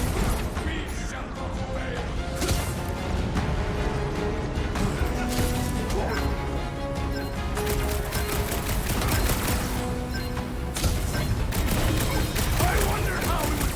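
Gunshots in Marvel's Guardians of the Galaxy, rapid repeated blasts and crashes woven through a busy combat soundscape with music, while characters speak throughout.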